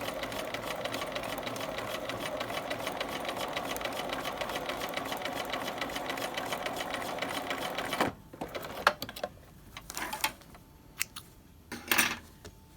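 Sewing machine running steadily for about eight seconds, tacking piping into place with a fast, even rhythm, then stopping, followed by a few faint handling clicks and rustles.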